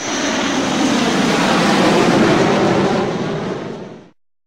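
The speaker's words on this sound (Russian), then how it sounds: "Превосходно. Самолет." An airplane roars past as a broad, loud engine rush, swelling slightly in the middle and then dropping away.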